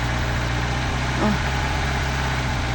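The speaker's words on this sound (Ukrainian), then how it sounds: "Все, все саморобний трактор." The small engine of a homemade tractor idles steadily nearby with a low, chugging rhythm, continuous throughout without voices.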